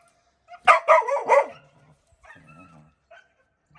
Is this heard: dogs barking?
yes